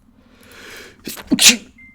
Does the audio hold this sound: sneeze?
yes